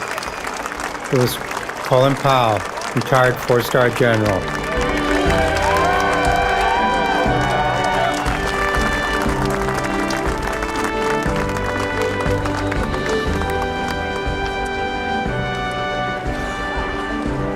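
Large outdoor crowd at the Vietnam Veterans Memorial on its 25th anniversary breaking into sustained applause and cheering, a dense wash of clapping with scattered shouts, while a voice speaks over the start.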